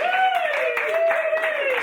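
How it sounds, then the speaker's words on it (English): Audience clapping at a live design gameshow in the Arctic Bar, a steady patter of hands running beneath a loud, sustained wavering musical tone for nearly two seconds. "Give us a huge round of applause."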